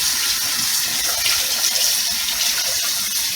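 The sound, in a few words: water running from tap into pot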